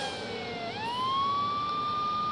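A police siren in the video game GTA III wails steadily, its tone sweeping upward and holding, set against a constant engine rumble.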